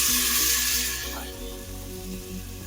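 Tomato pieces go into a pan of frying onions for tomato rasam, bringing a close sizzle that is loud at first and then settles into a softer, steady crackle.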